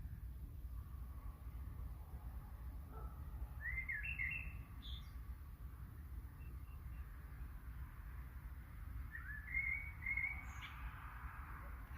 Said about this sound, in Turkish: Ama bülbülüm geldi şimdi çam ağacına.